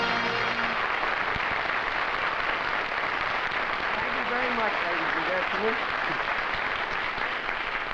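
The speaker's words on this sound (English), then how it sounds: "Thank you very much for your generous applause." Studio audience applause for a comedian on his television show, a dense sustained roar of clapping with a voice speaking over it near the end.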